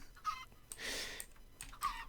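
Blocky chickens in Minecraft's Sky Factory 3 modpack cluck in short, separate bursts, close and fairly quiet, with a brief rustling noise between calls and no talking.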